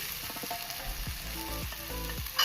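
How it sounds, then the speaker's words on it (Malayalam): Onions and tomatoes sauté in a pan with a steady, close sizzle that runs throughout, broken by a few soft stirring scrapes and no voices. "സവാള വാടിക്കഴിഞ്ഞു നമുക്ക് തക്കാളി ഇട്ട് ശരിക്കും വഴറ്റി കൊടുക്കാം."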